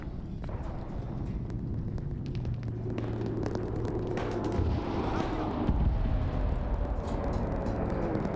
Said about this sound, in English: Big amount of bombs just dropped.